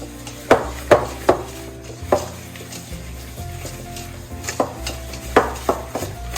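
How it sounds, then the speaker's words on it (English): A whisk stirs butter and sugar together in a bowl for banana bread, making a run of sharp, irregular clinks and knocks against the bowl over a low steady background. "Now we're gonna take our whisk here and we're just gonna mix it together until combined"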